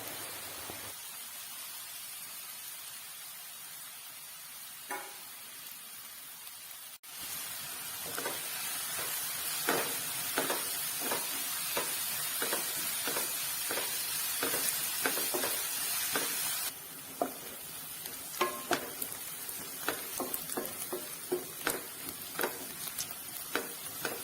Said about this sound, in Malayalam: പാനിലേക്ക് വെളിച്ചെണ്ണയാണ് ഒഴിച്ചു കൊടുക്കുന്നത് വെളിച്ചെണ്ണ ഒന്ന് ചൂടായ ശേഷം ഇതിലേക്ക് വലിയുള്ളി അരിഞ്ഞത് ചേർത്ത് കൊടുക്കാം എന്നിട്ടത് നന്നായിട്ടൊന്ന് വഴറ്റി എടുക്കാം